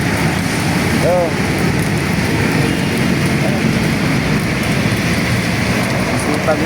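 Rain falls steadily outdoors as a continuous broad patter, with people talking briefly over it.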